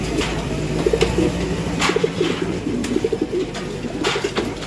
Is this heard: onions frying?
no